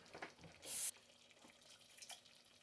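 A kitchen tap runs briefly for water added while cooking soup: one short, faint gush of under half a second amid quiet background clatter.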